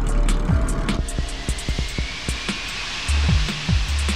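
The six jet engines of the Antonov An-225 Mriya give a broad, steady roar with faint whining tones and repeated low thumps. The sound is loud but somewhat distant, and no one speaks.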